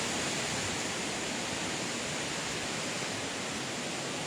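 River water rushing below the tufa cascades at Baume-les-Messieurs, a dense, even roar of flowing water filling the scene close by with no break or voices.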